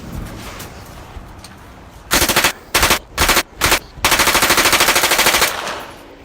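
Rapid automatic gunfire from a gun at a shooting range, loud close bursts: a short burst, three brief ones, then a long sustained rattle, with a quiet background before and after.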